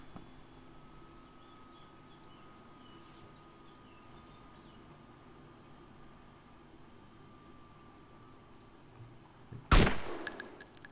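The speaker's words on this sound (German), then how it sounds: "ich schieße hier ab voll daneben" A single loud gunshot rings out near the end in the video game DayZ, breaking a long stretch of quiet outdoor ambience with no talking.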